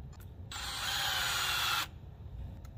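A power drill drives screws into the guide rails of a chainsaw mill edge guide. It sounds as one loud, steady whirring burst lasting just over a second, close by, with a low background rumble before and after and no talk.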